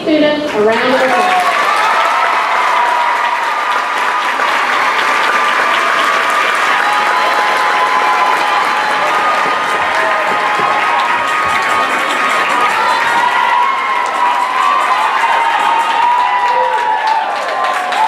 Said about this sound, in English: Give these students a round of applause.